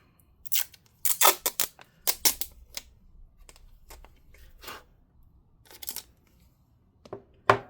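Strips of adhesive tape pulled off a roll and torn during an LCD screen replacement on a Lenovo Legion Y740-17IRHG laptop; sharp ripping bursts in clusters, close and fairly loud, with quiet gaps between.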